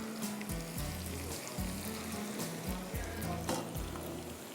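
Whole red chillies, mustard seeds, cumin, crushed garlic and curry leaves frying in hot ghee for achaar aloo give a steady, close sizzle with a broad hiss throughout, under repeated low tonal thumps and no talk.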